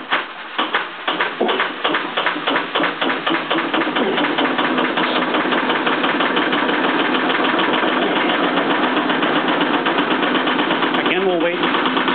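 A generator motor running under reduced speed beside a transfer switch, a steady mid-pitched engine drone with a rapid rhythmic knock, loud and continuous throughout, while someone talks over it.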